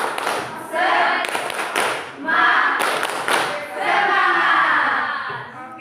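Classroom of students at a senior high school performing a rhythmic spirit clap together, bursts of loud group clapping and thumping in several rounds, with voices chanting among them.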